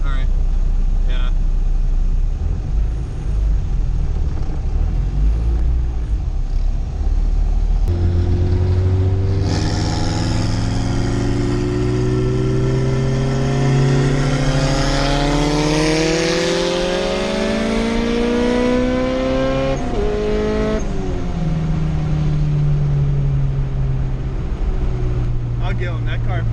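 A turbocharged red Honda Civic with a D16Z6 single-cam engine pulls hard in third gear, engine note climbing steadily in a long loud sweep before easing off, with voices talking inside the car.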